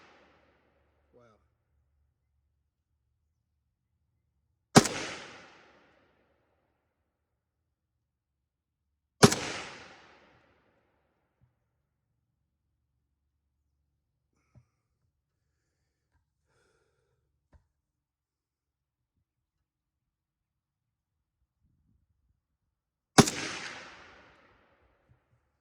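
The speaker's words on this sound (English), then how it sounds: "We're shooting a sub-MOA group right now." Three sharp, loud rifle shots from a Riley Defense AK-47 at a shooting range, spaced several seconds apart, each with a short decaying echo and near silence between.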